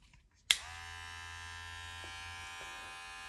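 All-in-one dog grooming clippers switch on with a click, then hum in a steady, fairly quiet electric buzz close by, with no talk.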